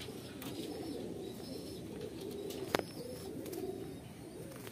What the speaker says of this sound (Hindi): एकदम एडल्ट है, एकदम हाई फ्लाइंग कबूतर है।